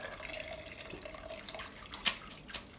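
Plum juice running and dripping from a strainer lifted out of a cooking pot while making plum jelly, a close trickle of liquid with a few distinct splashing drips near the end.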